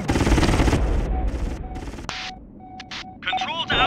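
Bursts of gunfire in the PlayStation game G Police: a loud opening volley, then sharp intermittent shots and clattering blasts, with a steady tone running underneath.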